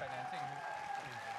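Supporters of a political party clap and cheer at a televised election debate, with steady applause running under a voice.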